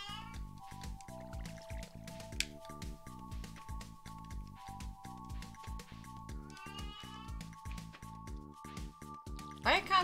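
A house cat meows a few times, the clearest call near the end, over steady video game music and soft rhythmic clicks.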